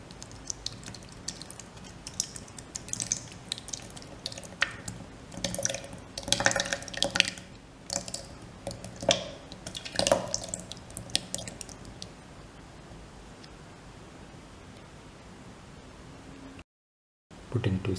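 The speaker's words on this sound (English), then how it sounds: "Pour in 500 ml of yogurt." Yogurt poured from a container into a grinder jar of blended dragon fruit for a smoothie, a wet glugging, dripping stream heard up close, with soft splashes and squishy sounds over several seconds.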